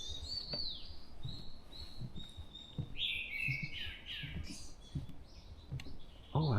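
Thrush singing in a forest: clear, fluting phrases repeated near the listener, with other birds chirping around and faint rustling or footsteps below.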